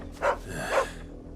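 A dog in the video game Final Fantasy XVI gives two short barks about half a second apart, over a low steady game background.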